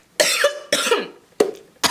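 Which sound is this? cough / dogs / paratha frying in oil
cough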